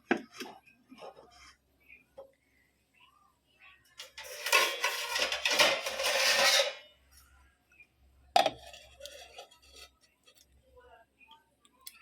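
Kitchen utensils and dishes clatter and clink in scattered bursts in a home kitchen, with one longer stretch of scraping and rattling, heard close and fairly quiet between the clanks.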